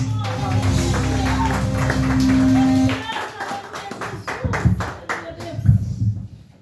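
A church congregation claps steadily during an evening service while voices carry over it, the claps becoming sharper and more distinct toward the end.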